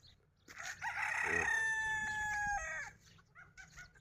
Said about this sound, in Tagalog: Ito dami manok dito.